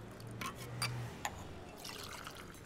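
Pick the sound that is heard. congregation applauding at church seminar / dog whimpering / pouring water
pouring water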